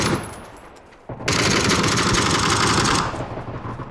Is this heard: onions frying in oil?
no